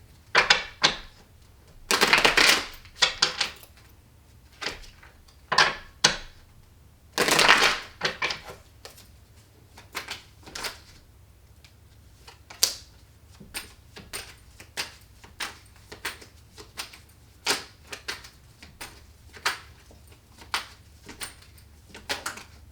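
Tarot cards are shuffled close by in quiet, irregular bursts of riffling and flicking, with louder clusters early on and softer, scattered snaps afterward.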